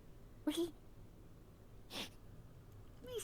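A person sneezes in short, sharp bursts, three times over a few seconds, with quiet background room noise and a brief spoken word.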